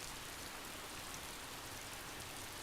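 Steady rain in the video game Hakuoki: Edo Blossoms, a continuous even patter and hiss filling the scene without breaks or voices.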